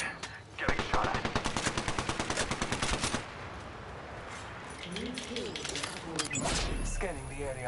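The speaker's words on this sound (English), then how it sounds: "Getting shot at." Rapid automatic gunfire in the Apex Legends video game, a loud, evenly spaced burst of shots for a few seconds, then quieter battle noise with voices talking over it.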